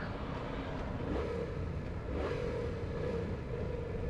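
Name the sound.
Yamaha MT-07 motorcycle engine while riding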